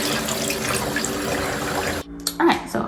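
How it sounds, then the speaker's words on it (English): A toilet with a hand-wash sink on its tank, in military housing in Yokosuka, Japan: a steady rush of flushing and tank-filling water that stops abruptly, followed by softer splashing and trickling. "if I flush the toilet here, I can wash my hands here"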